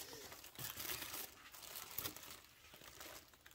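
Tissue paper crinkling and rustling during a craft session, soft uneven bursts of crackle that rise and fade, faint and close with no clear speech.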